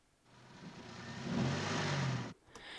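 A car engine recording EQ-processed into a spaceship engine swells in as a smooth filtered hum, holds with a low droning tone, then cuts off abruptly, followed by a faint click.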